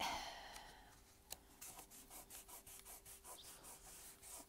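Paper or card being rubbed by hand during a scrapbook backpack craft, a steady series of short, close scraping strokes in an even rhythm, with a single sharp tap near the start and no talking.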